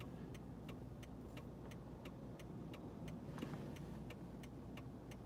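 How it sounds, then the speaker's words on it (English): Traffic noise in a gridlock of 18-wheeler semi-trucks: a low, continuous engine rumble fills the background while a faint, regular ticking, like a turn signal, clicks about three times a second, with no talking. "there's just like 18-wheeler semis all around me right now."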